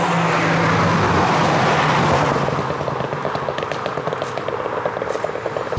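A VW Polo GTI with a 1.4 engine and no sound deadening in the back drones loudly and steadily throughout, with a low engine hum and faint ticking and rattles layered on top.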